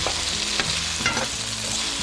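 Chicken breast frying in a pan, a steady close sizzle and crackle of oil with a few soft stirring knocks, no voices.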